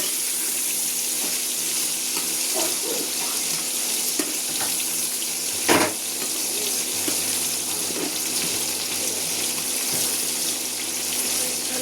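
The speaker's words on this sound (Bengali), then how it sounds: "চিংড়িটা ভালোভাবে ভেজে নেব।" Salted prawns fry in a pan, giving a steady, close, hissing sizzle that runs throughout, with one brief thump partway through and no talking.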